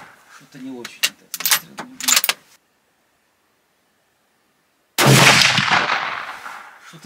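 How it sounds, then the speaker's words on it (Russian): A single sharp, loud rifle shot, fired from a bipod, bursts out after a short silence and rings off into a long, fading echo; someone talks briefly before it. "Что-то не очень этот выстрел."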